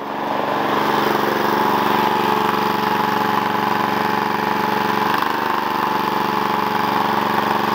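A small engine idles steadily in a workshop, a loud continuous close drone with an even mechanical hum and no pauses.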